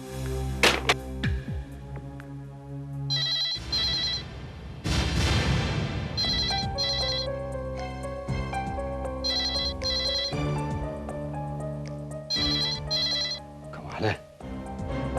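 A telephone rings in a Hindi crime drama scene, repeated bursts of bright electronic ringing in clusters over dramatic background music, with occasional voices.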